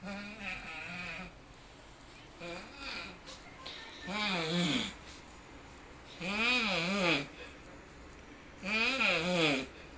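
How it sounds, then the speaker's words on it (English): A man snores loudly in a repeated rhythm, four or five long rasping snores, each a deep, wavering rattle with quieter breathing gaps between them, close to the microphone. "He appears to be doing a crunch with each snore."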